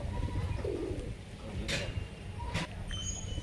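Pigeons coo softly at a loft, a faint low burble under steady background hum, broken by two short bright bursts of rustling or flapping.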